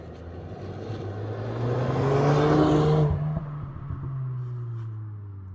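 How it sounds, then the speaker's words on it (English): A car engine idling in a car park, a steady low rumble that swells briefly as if revved or nearby traffic passes, then settles back to a continuous hum with no talk. "people that sit in their car with the engine on."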